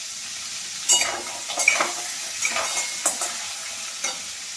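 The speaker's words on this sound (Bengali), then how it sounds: "ক্যাকড়াগুলোও দিয়ে দিলাম, দাঁড়াগুলোও দিয়ে দেবো। সবই একসাথে ভাজা হয়ে যাবে।" Crabs and crab claws frying together in a pan, a soft continuous sizzle with several spatula stirs and scrapes spaced across a few seconds, close by with no talking.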